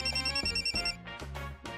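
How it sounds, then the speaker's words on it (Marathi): A telephone rings from somewhere close by in a home, its repeated bright electronic tone cycling in quick bursts over a low steady hum, with no voices over it. "फोन वाजतोय इथेच कुठेतरी"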